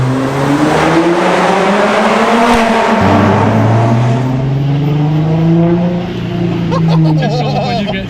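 A loud, throaty modified car exhaust, tuned to sound like a Nissan GT-R R35, revs hard and climbs through the range, then drops and rises again, close by and raw.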